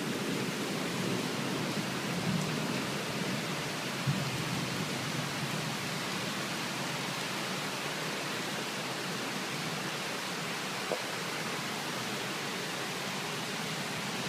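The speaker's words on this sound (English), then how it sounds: "you can see it's raining a lot." Heavy rain pours down at night outside a house, a dense, even hiss that holds steady throughout with only a few faint knocks and no talking.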